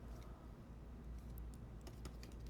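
Keys on a computer keyboard are tapped in quick, uneven clusters, faint and close, over a low steady background hum.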